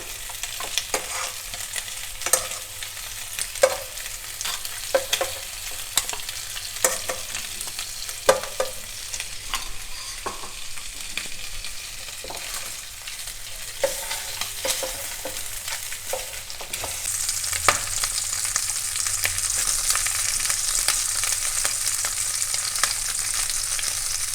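Pork ribs frying in a pan in a little pork oil give a steady sizzle, broken by scattered pops and scraping stirs. Partway through, the hiss grows louder and brighter.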